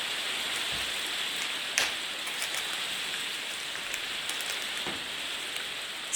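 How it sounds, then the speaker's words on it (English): Steady rain falling outdoors, a dense even hiss of drops with a few sharper taps and patters standing out, moderately loud and continuous with no voices. "Man, it's raining a lot."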